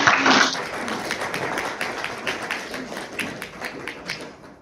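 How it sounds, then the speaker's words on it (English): Audience applause at the close of a talk on disposing of ozone-depleting substance stockpiles at the MOP34 meeting, beginning as a loud burst of clapping and thinning into scattered, fading claps over several seconds with no voices. "I hope you heard that applause for you."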